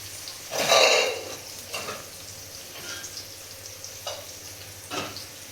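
Onions sautéing in a pan for a crab masala, giving a steady, moderate sizzle near at hand. A few sharp scrapes and clinks of a spoon against the metal punctuate it.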